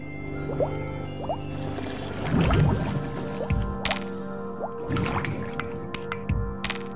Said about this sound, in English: Water that was only warm started to boil.